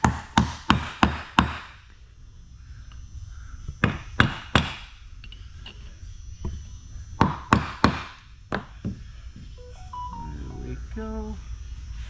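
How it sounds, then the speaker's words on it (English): Sharp metallic hammer strikes drive a bearing race into an NP203 transfer case, coming in quick bursts of several blows separated by pauses, with faint shop background noise and light clinks between. "I'm going to go get my bearing race set so I can knock that in safely"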